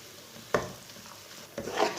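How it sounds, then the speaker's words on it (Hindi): Dry fruits are stirred and fried in halwa in a pan on a medium flame, two scraping spoon strokes over a soft steady sizzle, close. "ड्राई फ्रूट डाल के इसे चम्मच चलाते हुए मीडियम आंच पर भूनना है।"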